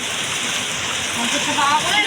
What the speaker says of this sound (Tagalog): Inabutan na kami ng ulan talaga. Malakas.